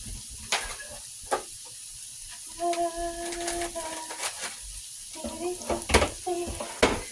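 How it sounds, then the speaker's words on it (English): Rice frying in a pan outdoors, giving a moderate sizzle broken by sharp clinks and scrapes of stirring, with no talking. "So me putting the rice in the pan like that, it's just going to give it an additional like fried taste"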